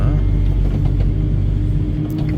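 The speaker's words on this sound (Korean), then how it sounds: "아침에 시동 걸고 예열을 한 10분은 해줘야" Construction equipment engine warming up on a cold morning: a steady, loud low rumble of an idling diesel, close and unbroken, with someone talking over it.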